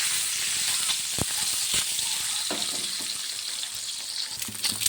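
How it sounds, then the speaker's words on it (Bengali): Eggs frying in a hot pan dusted with turmeric, a steady close sizzle with sharp crackles and a few spatter pops, continuous throughout with no talk. "ডিমটা ভালো করে ভেজে নেব।"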